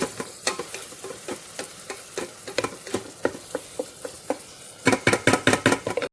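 Garlic sautéing in an Instant Pot while a utensil stirs it, giving a steady sizzle broken by regular scraping strokes. The stirring turns faster and louder near the end, with no talking.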